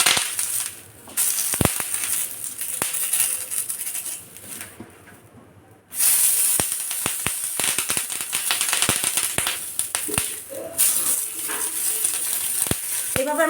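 A banana leaf toasted on both sides in a hot pan for Bengali bhetki paturi, giving a steady dry sizzle with crackles and sharp ticks, a brief quieter gap partway through, then louder frying hiss again.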